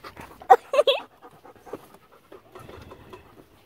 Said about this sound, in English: It's just a graceful dog that likes us.